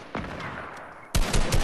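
Gunfire in Fortnite: a muffled shot comes first, then a loud, close burst of rapid shots in the final half second.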